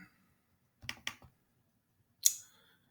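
A computer mouse being double-clicked: two crisp, close clicks in quick succession, a small trailing tick, then a single sharper click after a short silence.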